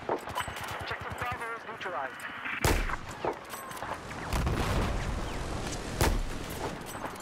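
Sniper rifle shots ring out in Battlefield 4 gameplay, several loud sharp cracks with booming tails spread across the scene amid continuous game noise and distant gunfire.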